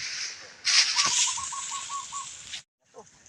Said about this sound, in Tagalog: Daming ibon doon sa dulo.